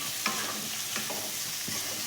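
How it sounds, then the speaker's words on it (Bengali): Ground turmeric, chili, cumin and sugar being stirred in a hot frying pan, a constant sizzle broken by three short spatula scrapes, close with no voices. "সব একসঙ্গে ভালো করে আমি মিশিয়ে নিচ্ছি।"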